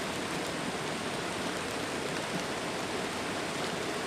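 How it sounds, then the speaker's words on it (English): Steady rain patters on a camping tarp at a backpacking campsite on the Ozark Highlands Trail, a constant even hiss with no pauses and no voices. "Now it's starting to really rain."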